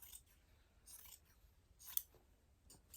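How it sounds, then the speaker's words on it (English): Scissors cutting through pant fabric, quiet close snips in short separate bursts, roughly four cuts spread over a few seconds against a near-silent background. "And then I'm going to go up and cut straight up this way."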